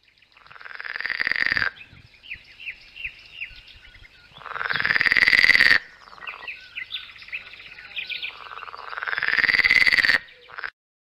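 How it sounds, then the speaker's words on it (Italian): Loud, rasping frog croaks come in three long bursts, with softer chirping calls between them; dense and close, no voices. "O i versi delle rane."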